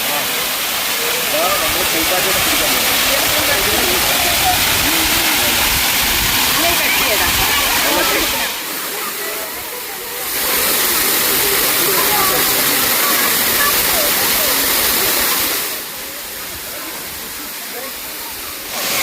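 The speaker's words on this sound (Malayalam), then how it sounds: "ഏകദേശം ഒരു 10-60 അടി ഉയരത്തിൽ നിന്ന് വീഴുന്ന വെള്ളമാണ്" The Thusharagiri waterfall drops from a height of roughly 10 to 60 feet with a powerful, continuous roaring rush. The roar twice fades back briefly before swelling again.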